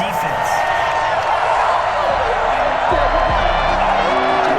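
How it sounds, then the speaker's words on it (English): Stadium crowd at a 1998 NFC Wild Card football game, Packers at 49ers, reacting angrily to a penalty flag, a loud continuous roar of boos and shouts filling the whole stretch. "Oh, this crowd does not like that call."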